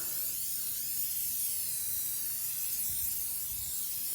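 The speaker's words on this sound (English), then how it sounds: "we're gonna spray it" Amsoil Mudslinger sprayed from a trigger spray bottle: a continuous bright hissing mist, close and steady throughout, with faint low bumps of handling beneath.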